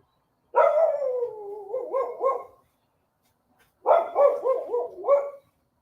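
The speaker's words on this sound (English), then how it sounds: "These dogs are going nuts out here. These are neighborhood dogs." Neighborhood dogs barking outdoors in two bursts of several quick, loud howling barks separated by a pause of silence.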